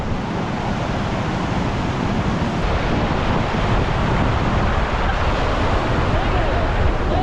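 Wind blowing outdoors beside a river near McCarthy, Alaska, a loud, continuous rushing roar buffeting the microphone throughout, with no clear talk.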